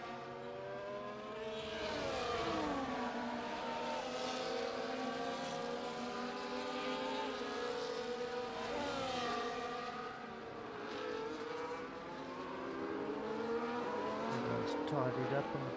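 Several race car engines hum and whine in a sim racing league race in Spain during a safety car period, overlapping pitch sweeps rising and falling at a moderate level, with commentary voices under the engines.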